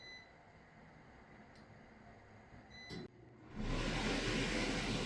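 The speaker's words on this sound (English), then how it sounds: "It's going to get noisy, so I'm going to turn on my hood fan" A kitchen range hood fan switched on, a brief click followed by a loud, steady broadband whoosh that fills the rest of the clip after a quiet start.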